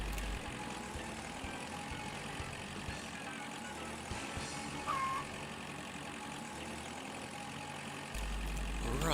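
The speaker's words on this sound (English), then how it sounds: "let you enjoy the wonderful sounds of the tractor" Tractor engine in Agricultural Simulator Historical, a steady mid-low idling drone running continuously and fairly quiet, with no talk over it.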